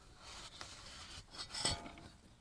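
Quiet rubbing and wiping strokes with a cloth across a hard, scraped and sanded gasket surface on a Fiat Tempra/Tipo during a water pump replacement, a few soft rasping passes at close range.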